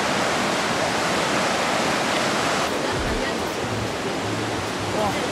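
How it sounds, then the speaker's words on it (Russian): Loud, steady rushing of a fast-flowing river in Bosnia fills the whole clip, a dense broadband roar with no pauses. "Смотри, какая река быстрая, обалдеть."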